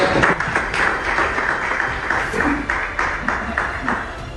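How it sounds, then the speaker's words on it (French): An audience claps at a training-completion certificate ceremony, rhythmic applause from a crowd sustained throughout, with some voices underneath. "On l'applaudit très fort."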